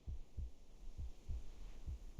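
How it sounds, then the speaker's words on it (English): Heartbeat sound effect from the video game Reverse: 1999, with six deep, muffled low thumps in a steady rhythm over a faint hum, and no talking. "A heartbeat. Right outside the door."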